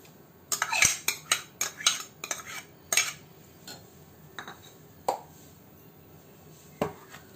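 Cooked mutton being moved from the cooking pot into another vessel, with a run of sharp metal utensil clinks and scrapes close by, clustered in the first few seconds, then a few isolated knocks.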